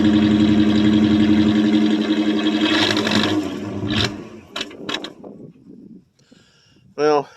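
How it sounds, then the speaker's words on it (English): A 1984 Chevrolet Suburban engine runs loudly and is given a short rev before cutting out, followed by a few scattered mechanical clunks and a brief rising whine near the end. "We'll give her a little exhaust rev up here."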